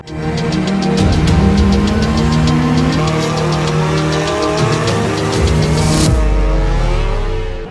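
Hyundai Ioniq 5 N electric car speakers play simulated engine revs with rapid popping and crackling bursts over a loud, rising and falling synthetic engine note, ending in a sharp cutoff.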